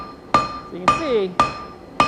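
Hammer forging hot cutlery-grade stainless steel into flat stock, four sharp ringing blows at an even, unhurried rhythm, close and loud, with a brief sliding metallic squeal between two of the strikes.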